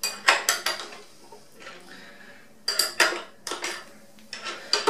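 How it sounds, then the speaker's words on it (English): Brass cartridge cases and steel pins rattle and clink as they are separated after tumbling in an LT-5 brass tumbler barrel, in several loud metallic bursts with short quiet gaps between them. "I'm going to remove the barrel and separate the brass from the pins"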